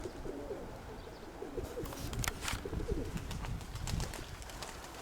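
Pigeons coo softly in low, rolling calls amid constant outdoor background noise, with some rustling and scattered brief sounds.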